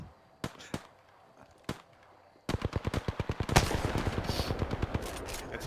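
Gunfire in the Apex Legends video game: a few isolated sharp shots, then a sustained rapid automatic burst followed by continued overlapping fire, loud and close.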